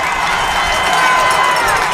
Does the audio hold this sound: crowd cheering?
yes